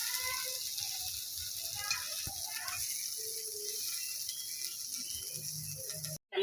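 Dried fish hits hot oil in a kitchen pan with a faint, steady hissing sizzle, plus a few small clinks, before the sound cuts off abruptly near the end.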